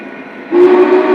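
A Big Boy model train locomotive gives a steady, loud whistle that starts partway through, over a soft running hum, and holds its tone to the end.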